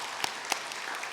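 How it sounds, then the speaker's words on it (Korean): A church congregation applauds to welcome a newly registered member, a faint, distant spread of clapping with a few sharper individual claps standing out. "잠깐 일어나시면 박수로 환영하도록 하겠습니다."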